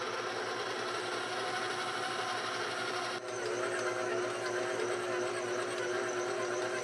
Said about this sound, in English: Turn on the mixer.